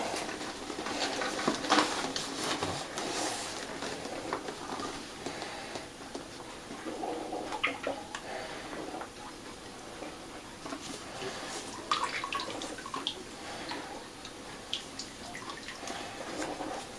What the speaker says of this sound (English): pour the concentrate